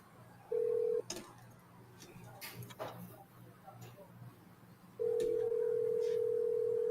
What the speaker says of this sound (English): Hey, I got to make a phone call.